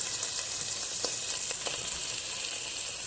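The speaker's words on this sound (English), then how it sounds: "you gotta have to fry your curry" Coconut cream and green curry paste fry in melted butter and fat for a keto Thai green curry, a continuous close crackling sizzle with faint stirring scrapes throughout and no voices.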